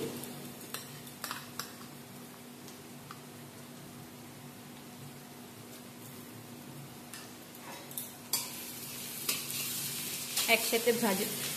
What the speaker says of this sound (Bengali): দিয়ে দিচ্ছি 2 চামচ রসুন কুচি,